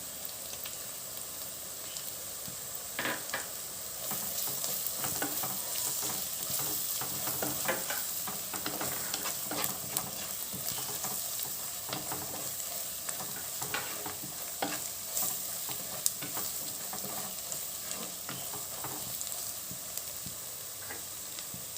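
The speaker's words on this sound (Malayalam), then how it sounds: "ഇനി ഇതെല്ലാം ചേർത്ത് നന്നായിട്ടൊന്ന് വഴറ്റാം." Ground spices such as pepper and turmeric are stirred and sautéed in a hot pan. A steady sizzle runs throughout, broken by frequent scraping and clinking strokes of a spoon against the pan at an uneven pace, with no talking.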